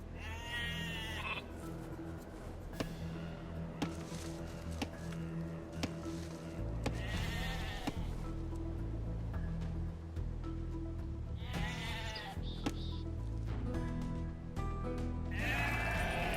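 Sheep in Age of Empires II: Definitive Edition let out about four separate bleats spread across the stretch, each short and clear over a soft bed of game ambience and music.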